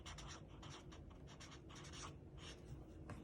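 Pen scratching on paper as notes are written for a Spanish class lesson, a steady run of short faint strokes with brief pauses, no talking.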